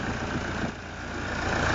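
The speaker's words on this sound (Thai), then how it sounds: "ฟังเสียงเครื่องยนต์นะฮะ" A newly replaced engine idles steadily close by, a low continuous rumble with no voices.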